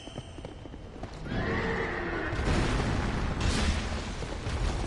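A horse enemy in a Soulsborne video game neighs and whinnies loudly, with heavy hooves clopping and thudding impacts building into a dense, loud burst of combat noise.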